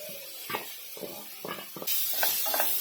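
Vegetables tipped into a hot pan over lowered gas and stirred for a vegetable pulao, with soft scraping stirs in a steady rhythm and a sudden rise into bright, close sizzling.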